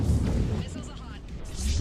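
Missile salvo launching in Mass Effect 3, with deep booming whooshes at the start and end and a brief voice underneath.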